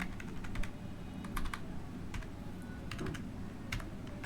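Code typed on a computer keyboard, a steady patter of close key clicks in quick irregular bursts, some louder strokes standing out, with no talk.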